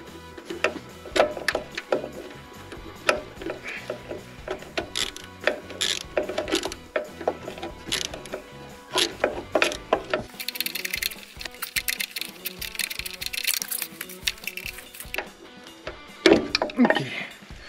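A ratchet tightens a fastener in a long series of close, sharp clicking bursts with short pauses and some metallic clatter, under occasional quiet talk.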